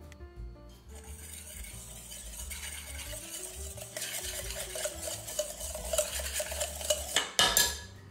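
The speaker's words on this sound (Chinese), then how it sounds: "接着搅拌均匀" A utensil whisks a batter of flour, tapioca starch, baking soda and salt in a bowl, producing a steady, continuous scraping and swishing rhythm, close by, growing busier and louder toward the end.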